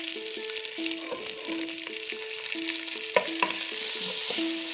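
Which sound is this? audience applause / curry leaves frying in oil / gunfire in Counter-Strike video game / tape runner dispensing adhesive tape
curry leaves frying in oil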